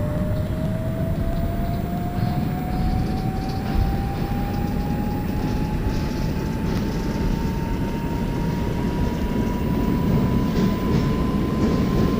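R62A subway train running in the OpenBVE train simulator game, a loud steady rumble with a motor whine climbing slowly in pitch as it accelerates, no voices.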